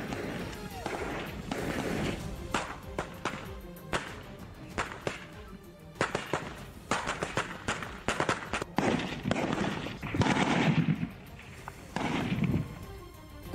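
Sharp cracking bangs burst in irregular clusters, some rapid and some spaced out, loud and close amid general commotion.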